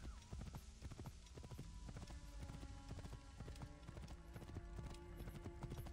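Horse hooves clip-clop steadily at speed during a ride in Assassin's Creed Origins, a quiet, even, rapid rhythm of hoof strikes with faint background ambience.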